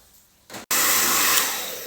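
A hairdresser's hair dryer blasts at close range after a brief false start, a steady loud whoosh of rushing air drying her own hair.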